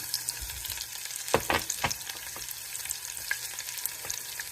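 Garlic dropped into hot oil in a pan already holding toasted chana and urad dal, sizzling steadily with a few sharp crackles and stirring scrapes, close and moderately loud with no talking.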